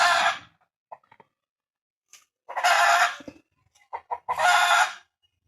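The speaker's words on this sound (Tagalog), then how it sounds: "Ngayon ito mga manok." Chickens cluck and squawk in loud bursts close by, separated by short quiet gaps, with a rooster-like call among them; no talking.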